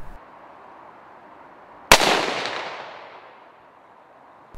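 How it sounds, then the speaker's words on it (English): A single loud rifle shot cracks while stalking a muntjac deer in Ireland, followed by a long rolling echo that fades over about two seconds against quiet outdoor background. "The shot clearly took our cameraman by surprise, but John's as calm as can be."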